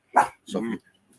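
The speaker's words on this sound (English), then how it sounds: "if you hear the dogs barking, I apologize." Two short dog barks sound indoors in a house, a sharp yip followed by a slightly longer bark, then quiet.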